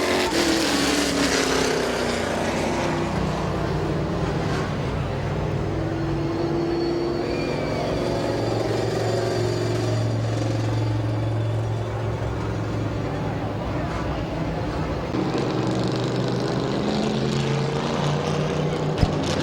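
Stock cars race at Midvale Speedway, their engines blending into a continuous roar with swelling, shifting pitch as the pack circles the track. The sound is loud and sustained throughout.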